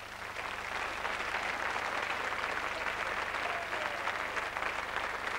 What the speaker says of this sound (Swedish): en applåd tycker jag